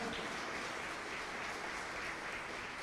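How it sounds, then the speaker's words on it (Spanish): Steady crowd applause fills the whole stretch, a dense roar of many hands clapping at even loudness without a break. "Denle el aplauso al Señor."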